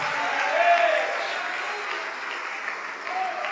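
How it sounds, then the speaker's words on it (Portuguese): A church congregation applauds in praise of Jesus, a steady wash of many hands held at an even level throughout, with a voice rising briefly above the clapping. "Vamos aplaudir mais ao nome de Jesus."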